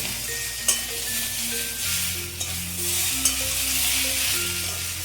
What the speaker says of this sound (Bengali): আদা বাটা দিয়ে সবজিগুলোকে আমি আর একটু কষিয়ে নেব